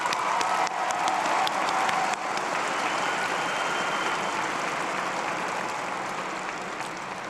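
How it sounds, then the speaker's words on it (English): At a spring commencement ceremony, a large audience applauds graduates' families with sustained, even clapping from a big crowd, loud at first and settling into a steady roar that gradually softens. "Can we give a round of applause to your families and loved ones who made this day possible?"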